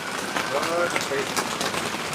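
Heavy evening rain pours down steadily in a rural Thai village, a dense, close hiss of drops on surfaces with a faint voice barely audible beneath.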